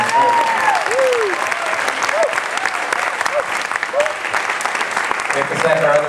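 An audience applauds a singer after her live set at the Academy of Natural Sciences in Philadelphia, with continuous full clapping throughout and a voice briefly rising over it near the start.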